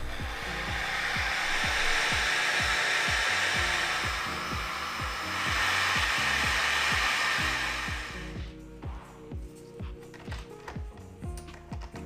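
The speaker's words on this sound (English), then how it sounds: "I place the plastic sleeve over the cell and heat it evenly so it shrinks." A hot air gun heats a plastic shrink sleeve over an e-bike battery cell, giving a steady, loud blowing roar for about eight seconds, then cutting off and leaving quieter scattered clicks and taps.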